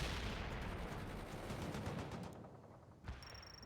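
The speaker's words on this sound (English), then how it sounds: "Fires a machine gun." Sustained machine gun fire in the real-time strategy game World in Conflict during a river crossing battle, loud, dense and continuous, tapering off near the end with a single sharp shot.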